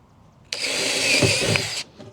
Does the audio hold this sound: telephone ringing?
no